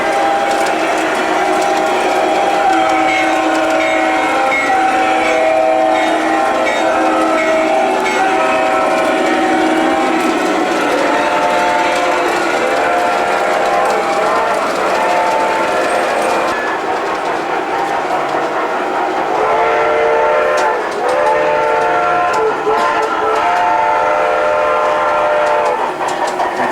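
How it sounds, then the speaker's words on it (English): A New York Central train passes with continuous loud rumbling, screeching wheels and rattling, clanking railcars, a long sustained roar that keeps going for the whole stretch. "Train again."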